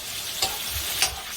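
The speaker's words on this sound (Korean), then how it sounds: "겉면만 익도록 고기를 살짝 볶아주세요." Meat stir-frying in a pan at home for a seafood jjamppong, surface-searing over high heat: a steady close crackling sizzle with two brief sharper bursts as the pieces are stirred, no talk.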